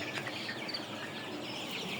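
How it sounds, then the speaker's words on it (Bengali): Colour-bat Sonali chickens, a flock of about a thousand thirty-day-old birds raised for meat, cluck and chirp softly in a steady, busy murmur, with a faint high whine running underneath. "এ হচ্ছে আমার কালারবাট মুরগিগুলা"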